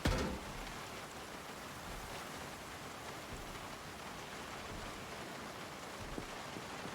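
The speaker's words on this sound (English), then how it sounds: "It's been raining for 3 days." Steady rain falls in the Project Zomboid survival game, a constant soft hiss of drops on surfaces with no talk over it.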